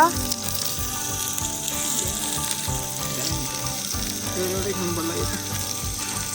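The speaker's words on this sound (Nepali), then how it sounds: "यता चाहिँ ससेज फ्राई हुँदैछ" Sausages fry in a pan with a dense, constant hiss and crackle close by, while faint voices murmur in the background.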